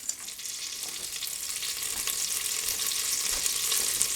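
Broken spaghettini frying in a pan of olive oil and butter, a steady close hiss and crackle that builds slightly over the few seconds, with no voices.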